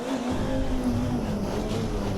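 A four-wheel-drive rally car pushes through soft bushes, its engine droning steadily at a sustained pitch with a rough rumble underneath, close and loud.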